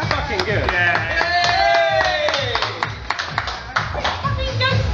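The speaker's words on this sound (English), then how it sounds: "I think a round of applause." Wedding guests clap in a loose burst of applause that runs the whole few seconds, mixed with voices cheering and talking over it.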